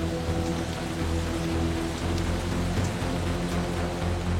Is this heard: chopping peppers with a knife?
no